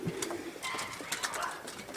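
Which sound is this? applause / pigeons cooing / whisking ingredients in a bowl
pigeons cooing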